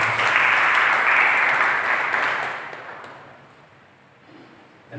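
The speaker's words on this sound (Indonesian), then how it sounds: "Berikan tepuk tangan." A church congregation applauding during an Indonesian worship service, a dense wash of clapping that starts loud, holds for a couple of seconds, then thins out and fades toward the end.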